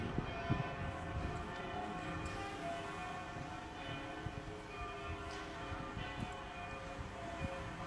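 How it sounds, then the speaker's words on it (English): Church bells ring in the Sicilian town of Caccamo, a dense, continuous wash of overlapping metallic tones with scattered louder strikes, heard alone without talk. "Can you hear the bells?"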